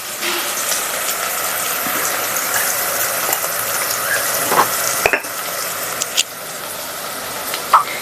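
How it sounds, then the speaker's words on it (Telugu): Onions frying in a pan for bagara rice and chicken curry, a loud continuous close sizzle with stirring scrapes and a few sharp utensil knocks toward the end. "ఇప్పుడు ఆనియన్స్ కొంచెం ఫ్రై అయిపోయినాయి కదా"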